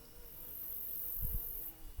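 Bees buzz faintly in a sunny garden, a thin, continuous insect drone with a few soft low thumps near the end and no voices.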